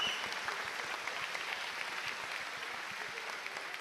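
Crowd applause fills the hall at a Gran Turismo World Series Nations Cup esports event in Tokyo, a steady dense clapping held at an even, moderately distant level throughout.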